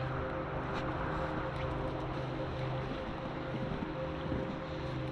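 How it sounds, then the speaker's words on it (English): A little creek in the North Country flows steadily, giving a continuous, even rushing wash that is fairly loud and close, with no voices over it. "it's just a little creek here."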